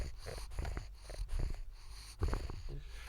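A resting dog with an elongated palate breathes close by, a run of wheezy, snorting breaths that rise and fall in a steady rhythm.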